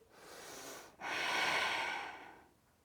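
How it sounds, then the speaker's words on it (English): Slow, steady breathing during a yoga session: a short airy exhale, a brief pause, then a longer, fuller breath, close and alone with no talk. "Wide and breathe. Narrow and breathe."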